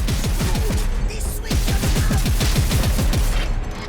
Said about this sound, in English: Gun firing